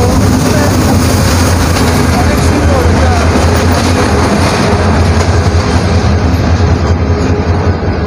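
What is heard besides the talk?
train arriving at Sreemangal railway station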